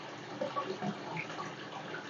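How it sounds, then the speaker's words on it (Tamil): Water draining quickly from the sump section of an aquarium, heard as a steady, faint, gurgling wash of running water with no speech over it. "ஸோ தண்ணி பாருங்கள் எவ்வளோ வேகமாக ட்ரைன் ஆகுதுன்னு"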